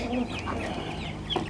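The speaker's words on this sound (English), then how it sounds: "So that is the update on the chicks we got. 10 Cornish crosses." Ten young Cornish cross chicks clucking and peeping together in a farm enclosure, a steady soft chorus of small calls close by with no talking.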